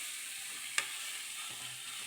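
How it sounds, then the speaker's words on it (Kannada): Tomatoes frying with salt over a low flame, a faint, even sizzle with one brief clink of a utensil against the pan. "ಈಗ ಇದಕ್ಕೆ ಉಪ್ಪು ಹಾಕಿ ಸ್ವಲ್ಪ ಸಣ್ಣ ಉರಿಯಲ್ಲಿ ಫ್ರೈ ಮಾಡ್ಕೋಬೇಕು."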